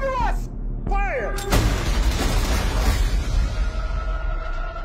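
Naval gunfire and explosions in a war film about a wartime convoy hunted by U-boats, a loud sustained barrage of booms and rumbling blasts over dense low roar, with a shouted voice near the start.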